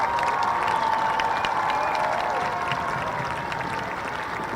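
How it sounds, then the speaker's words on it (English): A crowd applauds and cheers for graduating seniors at a high school football game, a steady outdoor wash of clapping heard from a distance with a faint tonal hum underneath. "Please congratulate them with a mighty round of applause."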